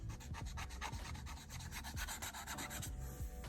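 Matte sticker paper is scratched hard to test its scratch resistance, giving rapid rhythmic rubbing strokes close up that run continuously and thin out near the end.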